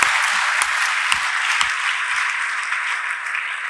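A church congregation applauds for Jesus with steady, sustained clapping that stays fairly loud and even throughout, with a few sharper claps standing out.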